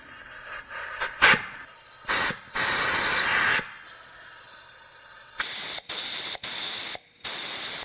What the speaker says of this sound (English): we're going to take an air nozzle and blow through it and see what comes out.